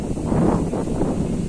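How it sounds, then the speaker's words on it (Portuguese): Strong wind blowing through trees: a steady rushing roar with gusty swells and some microphone buffeting, loud and continuous with no talk. "olha pra vocês verem a ventania que tá aqui"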